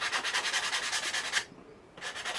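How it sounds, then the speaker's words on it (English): Quick back-and-forth sanding of skateboard wood corners with 80 grit sandpaper, close and fairly quiet rhythmic rasping strokes with a brief pause before resuming. "just sand off these corners, just make it a bit smoother."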